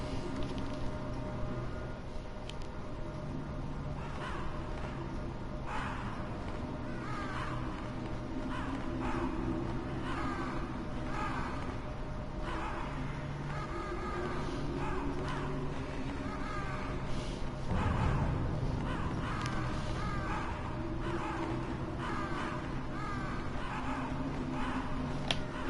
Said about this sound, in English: Those aren't crows. Those are northern ravens.